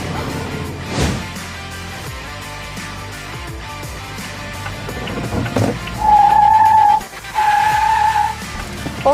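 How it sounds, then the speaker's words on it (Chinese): Car tyres squealing loudly in two long screeches as a hybrid car accelerates hard uphill from a standstill, with engine noise and a few thumps before them. "哦，这个轮胎声音 非常的响， 打滑了是吧？"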